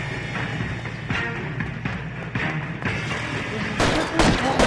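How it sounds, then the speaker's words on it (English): Firecrackers going off in L.A. Noire, a dense run of rapid popping bursts at steady loudness, growing sharper and brighter toward the end. "Wow, look at all the firecrackers!"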